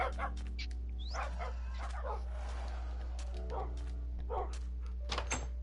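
Minecraft dogs bark, yip and whimper in short bursts inside the game world, moderately loud over a steady low background hum, with light talk mixed in.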